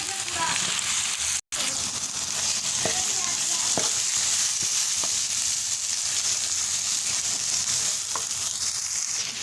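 Potatoes sizzle and crackle loudly in hot oil after a tempering of spices, a continuous close-up hiss with occasional soft clinks of stirring.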